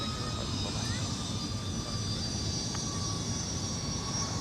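A KLM jet airliner departs from Minneapolis airport, its engines producing a steady, distant roar and whine that holds evenly throughout with no break.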